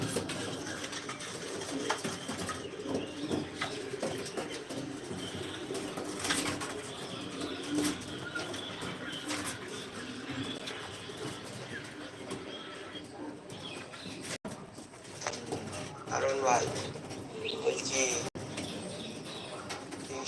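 Pigeons coo in a loft, low rolling calls repeating steadily, with occasional wing flaps and chirps over a busy background murmur.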